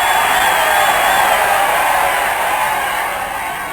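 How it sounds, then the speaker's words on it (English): Crowd-cheering sound effect in a tabletop game session: a broad, steady wash of voices that holds loud and then slowly fades, with no speech over it. "and some more cheering."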